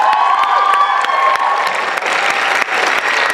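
A spoken word showcase audience breaks into a dense round of applause, loud and close, with cheering voices and scattered whoops mixed into the steady clapping throughout.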